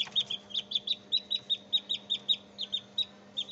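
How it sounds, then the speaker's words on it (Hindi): Young Aseel chicks cheeping in a rapid, steady run of high, short peeps, close and clear over a faint low hum, with no talking. "ये एक लसानी ब्रीड का माशाल्लाह चिक्स है।"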